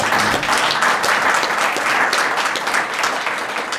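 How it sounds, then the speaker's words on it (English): Audience applause after speakers at a medical center talk on protecting cancer patients' hearts: a full, steady round of many hands clapping, loud and close, filling the clip without a break. "let's do one more round of applause for our speakers"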